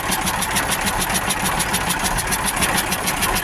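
An air compressor runs with a rapid, even pulsing chug and a mechanical rattle, loud and close, holding a steady rhythm throughout with no talking.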